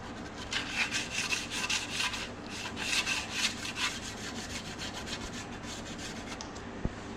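Rusty chrome being scrubbed with aluminum: a steady run of quiet, rhythmic rasping strokes, close and continuous, with no talking.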